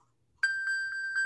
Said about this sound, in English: I can also ping like my iPhone.